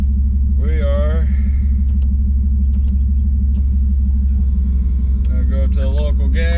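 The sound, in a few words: car driving, test cruise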